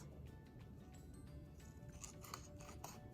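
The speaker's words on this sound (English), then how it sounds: "And then I cut the word laugh" Scissors cut a word out of paper for a scrapbook page, a few quiet, crisp snips clustered near the end over a faint, hushed background.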